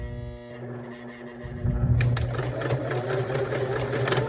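A sewing machine stitching a cork and fabric coaster, starting after a brief pause and then running as a steady, close mechanical whirr with rapid rhythmic needle clatter.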